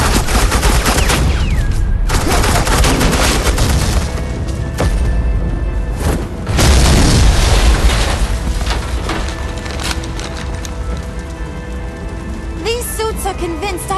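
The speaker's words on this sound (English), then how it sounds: "suppressing fire." Dense, loud bursts of rapid gunfire and suppressing fire in the Telltale Batman video game, crackling continuously like a fusillade over a heavy rumbling bed, with voices briefly mixed in.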